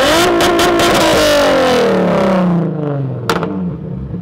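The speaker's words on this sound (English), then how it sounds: "You want me to like rev it all the way up?" A tuned Hyundai Genesis Coupe 3.8 V6 on E85 with full bolt-ons revs hard close by, a loud rising roar that climbs then falls away as the revs drop, with a sharp pop near the end.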